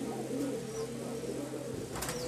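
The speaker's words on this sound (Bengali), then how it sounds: "আপনারা দেখছেন পুরান লাইনের কিছু কলসি গলা কবুতর" Giribaz pigeons of an old pot-necked line give soft, low, steady cooing, fairly faint and close, with a brief chirp in the background and no talk.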